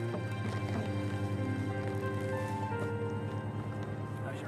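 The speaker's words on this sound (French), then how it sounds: "le couple se rend à cheval chez un de leurs voisins, Dick Britton." Horses being ridden to a neighbour's place clip-clop steadily at a walk, hoofbeats soft and fairly distant under a constant low hum.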